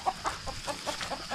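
A chicken clucks in a run of short, evenly spaced calls, fairly close and moderately loud, with no talking over it.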